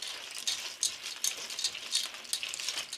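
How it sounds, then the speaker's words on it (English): Conchas pasta shells fry in a pan with a steady bright sizzle and crackle, punctuated by light scraping stirs, close and continuous. "We're going to fry the conchas, the shells, for a little bit."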